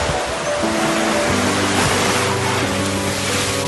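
Ocean waves on a beach produce a steady, broad wash of surf noise, constant and fairly loud, with a faint low hum underneath and no voices.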